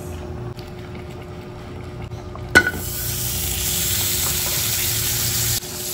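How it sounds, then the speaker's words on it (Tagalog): Garlic and onion hit a hot oiled pan for seafood and start sautéing, a sharp clatter followed by a steady loud sizzle that cuts off near the end. "Ito, magigisa na tayo. Bawang at sibuyas."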